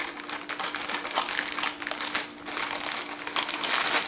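A lunch-size package of Fritos corn chips is cut open, with close, loud crinkling and crackling of the plastic bag that swells and fades over several seconds, no talking.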